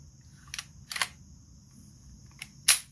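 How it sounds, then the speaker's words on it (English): A Canik TP9SFX pistol slide is lined up and reinstalled, giving a few sharp, close metallic clicks spaced out over quiet, ending in one louder snap. "To reinstall the slide, simply line it up with your guides there"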